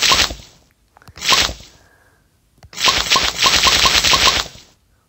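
Soda shot minigame in the Papa's Hot Doggeria HD video game: three bursts of rapid, snappy popping shots separated by short pauses, the last burst longest.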